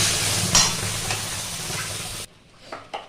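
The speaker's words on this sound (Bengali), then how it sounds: "এই শুকনো লঙ্কাটা হালকা ডলে নিয়েছি, এবার এটা দিয়েও একটু নাড়াচাড়া দেবো।" Prawns stirred with crushed dried chilli in a hot frying pan give a close, steady sizzle with a spatula scraping through it, then the sizzle suddenly drops away to near quiet with a few faint clinks.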